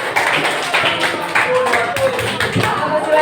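A classroom of students clapping hands together in a lesson, a steady dense patter of claps with some voices mixed in, fairly close and loud throughout.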